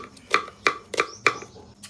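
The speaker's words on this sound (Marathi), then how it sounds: "मी बघ कसा कांदा कापितो" A knife cutting an onion on a board in a home kitchen, six or so crisp knocks at an even, quick pace, close and clear with no talking.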